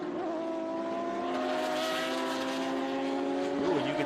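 Ferrari Maranello Cup race cars at Watkins Glen SpeedTour give a steady, loud engine drone with sustained tones that shift slightly in pitch as a car passes, continuous throughout.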